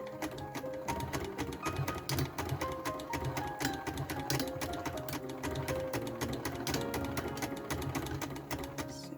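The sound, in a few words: freshly oiled sewing machine sewing a vintage hat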